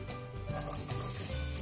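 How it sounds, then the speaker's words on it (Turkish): Chopped onions frying in oil in a pan, a continuous close hiss of sizzling with soft stirring, no talk over it. "Ve pembeleşinceye kadar kavuruyorum arkadaşlar."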